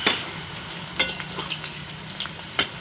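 Cauliflower fries in plenty of oil, giving a continuous bright sizzle close up, with occasional clinks and scrapes of a utensil turning the pieces.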